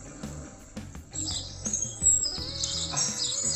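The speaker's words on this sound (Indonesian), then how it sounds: "Ini suara di alam ada burung ya" Recorded bird chirps and tweets played from an Olike smart drinking bottle, bright repeated calls over a soft nature-like backdrop, with quiet handling noises underneath.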